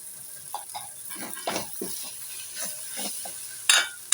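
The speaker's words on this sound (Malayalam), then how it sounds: "നമുക്ക് നന്നായിട്ടൊന്ന് ഇളക്കി കൊടുക്കാം കൂട്ടുകാരെ." Spice masala with coriander powder and Kashmiri chilli powder being stirred in a pan on the stove, with soft scraping strokes, light sizzle and a couple of sharper metallic clinks near the end.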